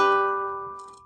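A single guitar string tuned to a high G is plucked once and rings out alone, its bright tone fading gradually over about a second.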